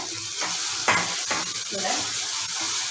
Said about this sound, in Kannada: ಪಾಡ್ದು ಹಿಂಗೆ ಫ್ರೈ ಮಾಡ್ತೀನಿ